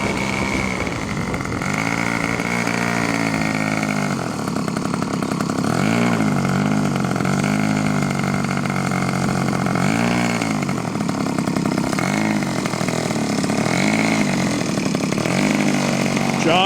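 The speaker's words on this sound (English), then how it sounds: "As you can hear, the motor's running and we're moving." The motor of an Aerodigm Model 206E model aircraft runs steadily during a taxi test, making a loud, buzzing, chainsaw-like drone that rises and falls in pitch several times and carries on without a break and without speech.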